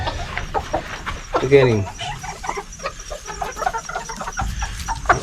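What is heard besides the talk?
chicken clucking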